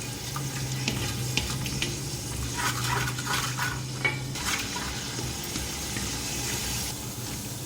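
Spices sizzling and frying in a pot for chicken biryani with green chilli paste, salt and cloves, a steady close crackle with scraping stirring and clinking of a spoon against metal.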